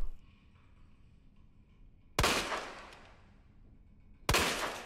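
Two loud gunshots in Resident Evil 2 Remake ring out a couple of seconds apart, each a sharp bang with a short echoing tail over a quiet background hum.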